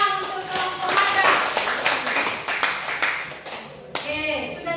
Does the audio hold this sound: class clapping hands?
yes